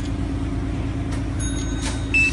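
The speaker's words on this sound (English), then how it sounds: "sini dia ada bunyi pip tu, mana kata dah ready untuk alarm." A brief electronic beep of a motorcycle alarm arming sounds near the end over a constant low engine-like hum, with a faint higher tone just before it.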